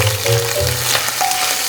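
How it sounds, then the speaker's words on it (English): Hot fat sizzles loudly and steadily in a pan while tiny fish fry for a turmeric fish curry, a close, continuous crackling hiss with no talking. "The sound of frying fat is very"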